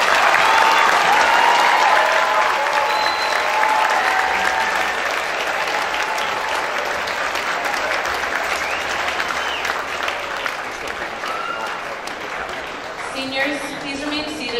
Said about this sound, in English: let us give these graduates one more round of applause